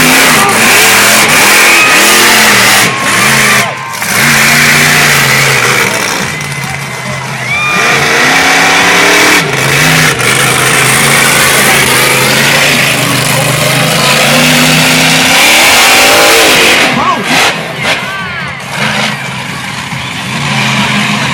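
A monster truck built like a lowrider revs its engine loudly and continuously at an outdoor monster truck show in Los Angeles, California, with the pitch rising and falling as the throttle swings.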